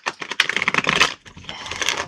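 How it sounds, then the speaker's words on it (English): Tarot cards being shuffled close up, a quick burst of crisp riffling clicks, a short pause, then a second run of shuffling. "So sorry if the shuffling is loud."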